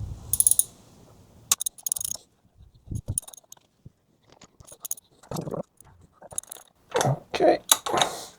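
A ratchet loosens the rocker cover bolts on a Ducati Multistrada 1200S during a valve clearance service, heard as short bursts of rapid close clicking separated by pauses, with brief handling knocks between.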